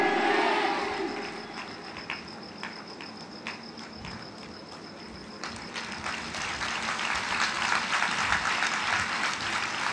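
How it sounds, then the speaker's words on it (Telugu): A congregation claps loudly at a church inauguration service, dense sustained applause that grows fuller and louder toward the end, with no voices over it. "చప్పట్లు కొట్టాలి గట్టిగా."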